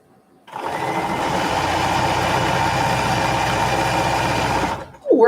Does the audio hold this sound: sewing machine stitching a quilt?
yes